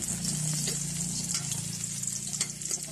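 Garlic sizzles steadily in a hot pan for an adobong kangkong dish, a continuous close frying hiss with faint crackles and no talking.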